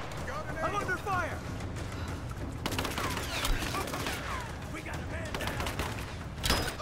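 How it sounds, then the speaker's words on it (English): Dense bursts of rapid gunfire crackle continuously with booming blasts in the video game Rise of the Tomb Raider, as a person talks over the battle noise. "they're shooting gunfire at me"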